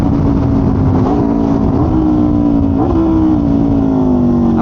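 A superbike engine pulls hard at half throttle, its loud, high-pitched howl climbing steadily through several gear changes with brief pitch dips, close and continuous with no voices.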